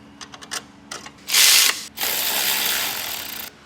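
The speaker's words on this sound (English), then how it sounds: "Throw in our alternator here. There's just 2 bolts on this one." Quick bursts of ratchet clicks near and up close, then a longer steady clicking run, as two alternator bolts are tightened during an engine rebuild.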